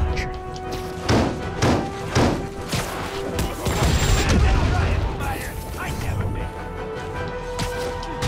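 Rocket explosions in the Spider-Man PS4 video game: a run of heavy booms and crashing blasts, dense and loud throughout, with someone talking over the top of them.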